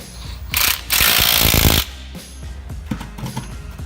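A gear from a 2006 Ford Mustang transmission, third gear, spins by hand with two short whirring, ratcheting bursts up close, followed by scattered light metallic clicks and knocks.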